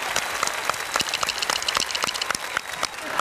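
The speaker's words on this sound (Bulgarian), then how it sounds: "Аплодисменти за диригента!" A crowd applauds a conductor at a Bulgarian TV comedy show. The clapping is moderately loud and scattered, with individual sharp claps standing out in a loose, uneven rhythm and no speech over it.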